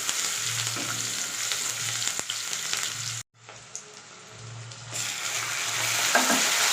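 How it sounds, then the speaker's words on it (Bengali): Chopped onions fry in a pan for a potato dum, giving a constant hiss with occasional stirring clicks. The sound drops out briefly partway through, then comes back and grows a little louder. "পেঁয়াজটা নাও দেওয়া যায়, তবে আমি দিচ্ছি। একটু লাল করে ভেজে নেব।"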